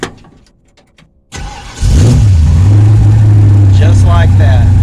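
A car engine cranks briefly after some quiet rustling and catches quickly, settling into a loud, steady idle close by, with a voice speaking briefly over it.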